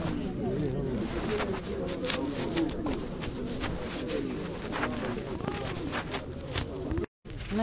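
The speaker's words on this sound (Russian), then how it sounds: "Здесь одни голуби." Pigeons coo softly in soft repeated calls amid the steady bustle of a Donetsk flea market, and a person speaks nearby.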